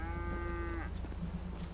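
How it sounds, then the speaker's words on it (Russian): A cow moos on a road in the video game GTA 5, one long tonal low with stacked harmonics lasting under a second, close and clear over steady engine-like background rumble, followed by quieter ambient noise. "корова на дороге"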